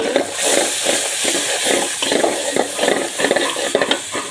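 Onion, ginger, garlic and chilli fry in hot oil while being stirred, a loud steady sizzle punctuated by rhythmic scraping strokes of a spatula against the pan.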